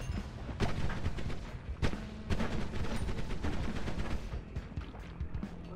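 Repeated sharp booms and cracks from a tank firing in Noita ring out at irregular intervals, each shot punching through a busy, crackling background of game noise.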